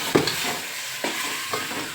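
Onion, tomato, chili and potato are stirred in a hot pan for Indian-style pasta, giving a soft sizzle with three short scraping strokes of a spoon, quiet and close.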